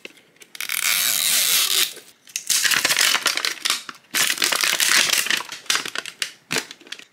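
A Zuru Itty Bitty Prettys doll capsule is torn open along its tear strip, giving a few loud, close bursts of crackling, ripping packaging noise separated by short pauses, with no voices.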